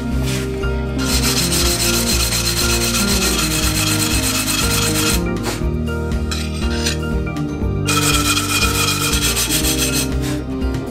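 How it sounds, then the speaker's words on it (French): Continuous loud abrasive rubbing while sanding a DIY coffee table made of metal, wood and glass, a dense scraping texture that carries on almost without a break, close to the source. "Je vais essayer de poncer un peu pour... récupérer ce qui va pas"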